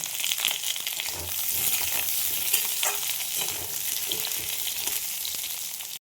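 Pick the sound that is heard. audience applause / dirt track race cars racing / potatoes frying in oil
potatoes frying in oil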